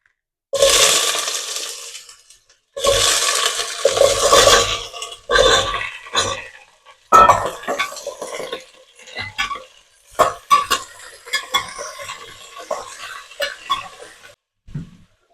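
Potatoes for aloo methi bhurji go into hot mustard oil in a pan, bursts of sizzling and clattering utensil scrapes in several loud bouts with short pauses, ending in softer stirring and tapping.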